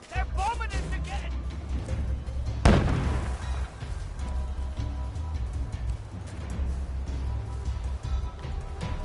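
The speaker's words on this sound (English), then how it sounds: "They're bombing us again!" Bombing explosions in a wartime video game set in a British-style town, a heavy boom bursting out partway through over a dense low rumble and ongoing din, with voices talking around it.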